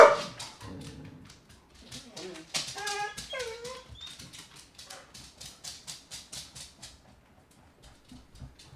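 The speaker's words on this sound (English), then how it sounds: "we blew out the mic with barking" A dog barks repeatedly at close range, loud enough to overload the microphone, with sharp yips and whimpers at first and then a steady run of barks that fades toward the end.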